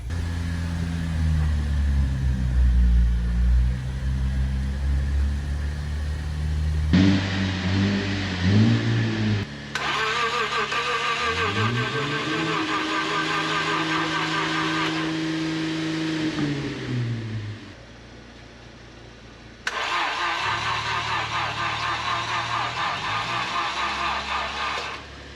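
A Lexus IS250 engine cranks and catches after a jump start from another car, settling into a steady mid-pitched idle with short revs and a brief drop before running again, loud and close throughout.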